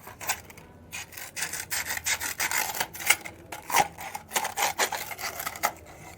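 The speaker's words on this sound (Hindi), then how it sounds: "आप देखिए कि मैं किस तरीके से मैग्नीशियम रिबन को रेगमाल से रगड़ रही हूँ।" Magnesium ribbon rubbed with sandpaper during a chemistry demonstration: close, dry, rhythmic scraping strokes repeating steadily, with no talking.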